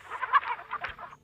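A chicken clucks in a quick run of short, close, fairly faint calls lasting just over a second, with nothing else around it.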